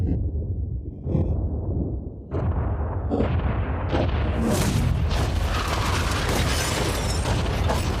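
A yacht is blown up. A few sharp booms go off, and then a big, close blast builds into a sustained roar and rumble of debris, with no talk.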